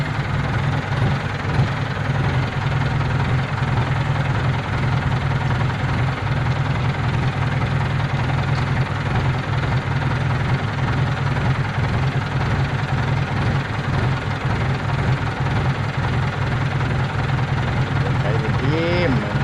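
A tractor engine chugs steadily at close range, a loud low rumble with a rhythmic knock that never lets up.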